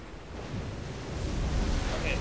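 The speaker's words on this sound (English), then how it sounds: "Okay, there's a waterfall there. Man, that's really loud." Loud, steady rushing of a waterfall in the Zelda: Tears of the Kingdom video game, a broad wash of roaring water that swells slightly and holds throughout with no talk over it.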